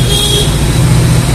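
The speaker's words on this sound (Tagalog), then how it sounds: "Ito pa rin yung busina mo, sir, no?" Horn on a Honda ADV motorcycle sounding after a full rewiring, a steady loud toot held through the whole moment over idling engine rumble, no voices.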